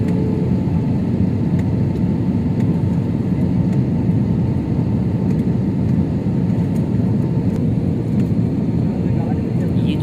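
IndiGo airliner cabin during descent into Delhi, a steady low engine roar and whir filling the whole stretch without letup.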